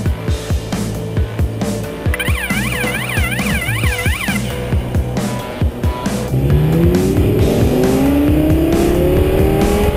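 An Audi A8 L W12 quattro with air suspension driven hard, its engine note rising and falling through repeated rapid shifts and throttle bursts, ending in a loud, sustained climbing rev close by.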